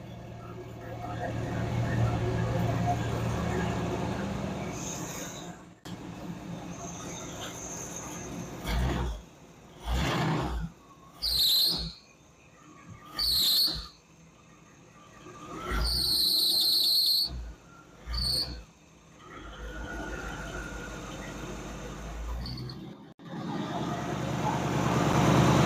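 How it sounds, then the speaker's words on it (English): A loose belt squeals on the running engine of a 1947 Ford COE chassis swap, sharp high-pitched bursts repeating between engine revs, close and loud with a steady idle before and after. "that belt squeal is horrible."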